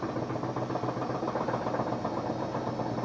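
Kenmore He2 front-load washer with its tub out of balance, giving a steady, loud mechanical drone of rumbling and knocking vibration that runs the whole time.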